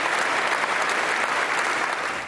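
Dignitaries and clergy inside Notre Dame cathedral in Paris give the city's firefighters a dense, sustained round of applause, loud and continuous throughout.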